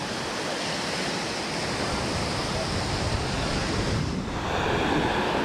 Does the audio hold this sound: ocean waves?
yes